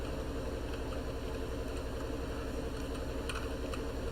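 Ship engines idle aboard a chemical tanker in the video game Stormworks, a quiet, steady low hum that stays constant throughout.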